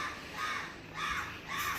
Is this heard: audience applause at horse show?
no